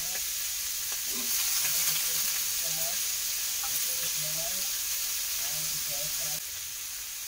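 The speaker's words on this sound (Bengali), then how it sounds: "আলু ভাজি করছি সকালবেলা খাওয়া" Potatoes fry in a pan for a breakfast aloo bhaji, a steady close sizzle with faint intermittent clinks and low background voices underneath.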